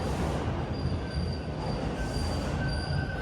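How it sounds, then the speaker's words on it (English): A Toronto subway train arrives at the platform with its wheels squealing in high, thin tones over a steady loud rumble, sustained throughout the short stretch. "Thankfully the train's here now"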